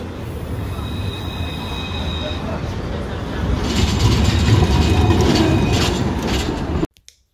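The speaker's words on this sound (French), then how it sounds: "Le tramway." A tram in Montpellier rolls past nearby, its wheels squealing on the rails over a steady rumble that swells midway and then cuts off abruptly.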